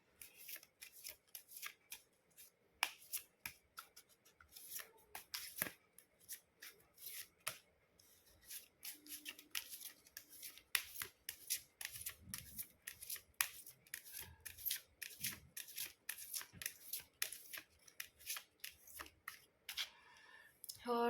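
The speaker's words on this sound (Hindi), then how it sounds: "तो चलिए कार्ड्स हमने कर लिए हैं शफल" Tarot cards being shuffled by hand in a quiet indoor setting, with crisp repeated riffling and rubbing bursts running steadily for the whole stretch, close and fairly soft, with no talking over it.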